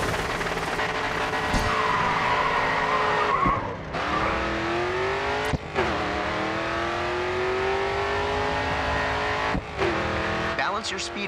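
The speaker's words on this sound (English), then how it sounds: "If you get the timing right, drifting can be a good way of maintaining momentum through corners." A race car in the GRID 2 video game drifts through corners with long, loud tyre squeals over a steady engine roar, broken by brief gear-shift dips.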